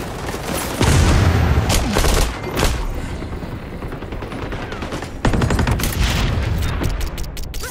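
Rapid gunfire in an XDefiant multiplayer match, dense automatic bursts crackling loudly in two long stretches with a brief lull between, close and continuous with overlapping shots.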